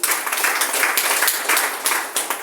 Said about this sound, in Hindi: अच्छी ताली होनी चाहिए।